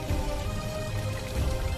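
Steady rain falling as an animated children's story sound effect, a dense, even hiss of drops with a low rumble underneath, constant and unbroken from start to end.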